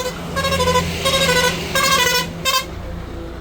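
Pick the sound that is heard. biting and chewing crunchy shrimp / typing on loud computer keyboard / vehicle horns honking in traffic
vehicle horns honking in traffic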